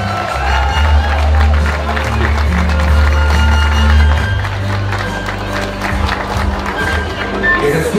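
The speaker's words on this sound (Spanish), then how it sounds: "¡Fuerte el aplauso!" Loud, sustained applause and cheering from a crowd at a quinceañera celebration honoring the champion of honor, dense clapping over a low booming background of music or hall noise, continuing for several seconds.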